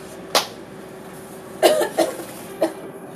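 Four short coughs spaced unevenly, one alone then a quick cluster of three, close and moderately loud over a quiet background.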